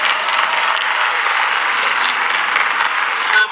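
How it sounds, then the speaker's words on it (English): Steady applause from a large graduation ceremony crowd, dense and continuous clapping filling the hall for several seconds without any speech. "Please give yourselves a round of applause."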